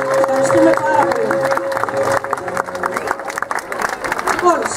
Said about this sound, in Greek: Ένα δυνατό χειροκρότημα για τα παιδιά της Σέντης, παρακαλώ.